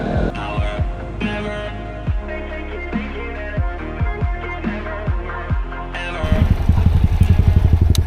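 Two motorcycles, a Honda NC700 and a Kovi 300 Advance, ride together with a steady engine drone and repeated rev swells and gear changes. The engine grows louder and rougher toward the end, with wind noise and no talking.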